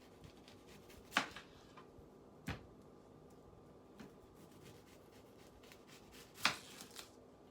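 A knife slicing the end caps off a fruit with a tough outer rind, a few crisp, sharp cuts spaced a second or more apart against a quiet background, one cut at the start and one near the end standing out loudest.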